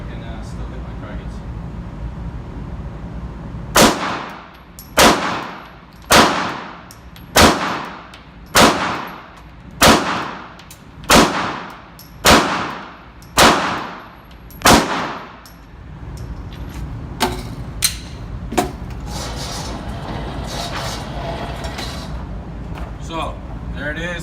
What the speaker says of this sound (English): I'm going to do a little bit more rapid shooting here today